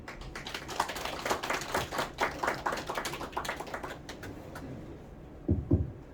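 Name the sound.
audience applause welcoming lecturer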